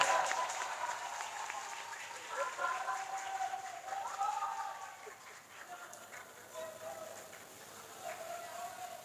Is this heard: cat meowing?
no